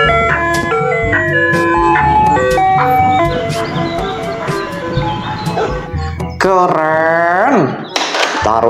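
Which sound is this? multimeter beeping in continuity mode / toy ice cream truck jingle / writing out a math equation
toy ice cream truck jingle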